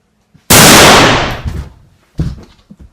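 A single loud gunshot cracks sharply and decays over about a second, followed by a couple of smaller knocks and rustles nearby.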